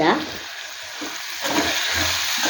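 Cleaned prawns frying in a pan, a close, steady sizzle with stirring scrapes, loud throughout the short moment.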